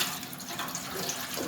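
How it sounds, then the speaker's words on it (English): Old yellowed fuel drains from the tank of a Kawasaki GPX 600R motorcycle in a steady, close, splashing trickle of liquid that runs without pause. "All that old fuel drained out of the tank."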